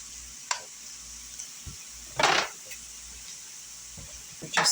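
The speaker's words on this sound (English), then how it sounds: "We're just going to whisk it in together till all that flour is incorporated" Flour is whisked into a sizzling pan for a SPAM pasta dish. A quiet background sizzle runs under a few brief, separate whisk scrapes and taps, with one longer scraping burst in the middle.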